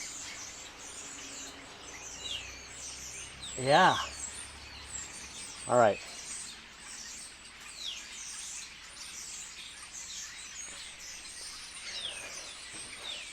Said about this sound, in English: These starlings.